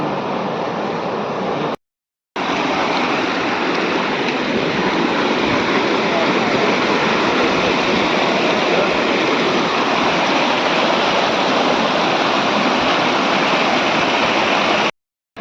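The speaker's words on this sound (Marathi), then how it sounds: "काय व्ह्यू आहे, पूर्ण ग्लेशियरचं पाणी." Loud, steady roar of glacier meltwater pouring nearby, a continuous torrent with a brief gap near the start.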